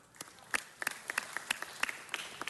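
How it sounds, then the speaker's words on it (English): Scattered applause and clapping at a city council meeting for honored high school students, moderately distant in a large room, with irregular individual claps standing out over a soft crowd. "Let's give them all a huge round of applause."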